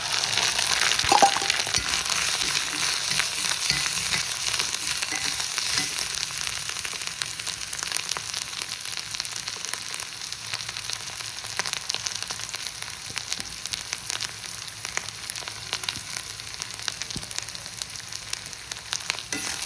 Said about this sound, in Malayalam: ഇഞ്ചി ഇട്ട് കഴിഞ്ഞാൽ ഹൈ ഫ്ലെയിം വെക്കില്ല, ലോ ഫ്ലെയിമിൽ തന്നെ നല്ല വറക്കും